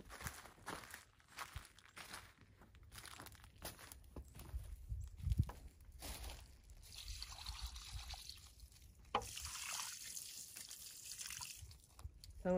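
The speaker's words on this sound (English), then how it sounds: "I've got some fish emulsion in this 5 gallon bucket. I'm just gonna pour it in to this bed." Fish emulsion pours from a 5-gallon bucket into a garden bed after a snowstorm, a faint trickling, splashing stream with soft shuffling steps nearby and a brief louder gush toward the end.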